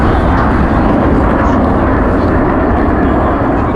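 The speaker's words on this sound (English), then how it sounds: "in case you're wondering how big the C-17 is, the wingspan is 170 feet" A Boeing C-17 military cargo jet passes over an air show, a loud, continuous broadband engine roar that fills the whole stretch without easing.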